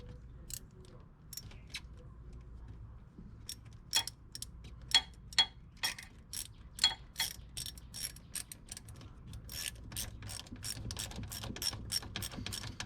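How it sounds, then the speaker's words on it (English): A ratchet fitted with a 5/16 socket tightens a radiator hose clamp on a 2005 Cadillac CTS, giving a run of quick, close clicking bursts that grow denser toward the end over a low garage hum, with no talk. "with a 5/16 socket, I'm gonna tighten it down."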